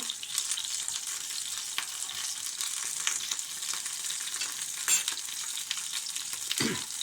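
Steady sizzling of green asparagus tips frying in a pan, a continuous crackle with occasional stirring scrapes, close and fairly loud.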